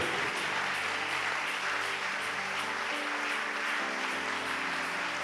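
A church congregation applauds and cheers for Jesus, a dense, continuous wash of clapping and crowd noise with sustained tonal voices or music underneath, loud and unbroken throughout.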